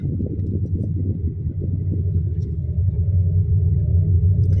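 Buses climb a hill road between hills, a continuous low engine rumble holding steady and close the whole time, with no talk.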